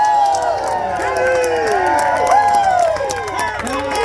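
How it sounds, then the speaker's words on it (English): A crowd at Stafford Speedway cheers and whoops for a driver at an SRX race, a loud, steady wash of voices with rising shouts, sustained and close throughout. "You just cheering for me because I'm the new guy."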